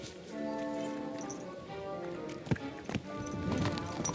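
A horse's hooves clip-clop in Kingdom Come: Deliverance 2, a few sharp knocks in uneven rhythm over a steady ambient hum, fairly close and moderately loud.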